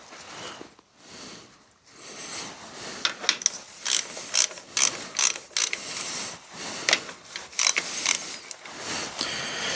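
Ratchet wrench loosening a 9/16 bolt on a David Brown tractor, close and alone: a series of short clicking ratchet bursts, repeated in quick strokes with brief pauses between.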